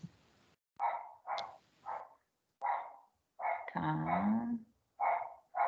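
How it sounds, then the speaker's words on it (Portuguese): A dog barks repeatedly in short bursts at a moderate distance, with a longer growling or howling bark midway, all heard alone. "Minha cachorra tá muito louca."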